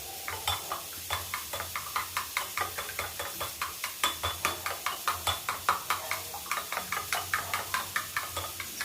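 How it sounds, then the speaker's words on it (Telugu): Eggs are beaten with a spoon in a bowl, producing a fast, steady run of close, crisp clinking strokes that repeat rhythmically throughout. "ఇప్పుడు వీటిని బాగా బీట్ చేయాలండి స్పూన్తో. ఇప్పుడు ఈ ఎగ్ని బాగా బీట్ చేసుకోవాలి."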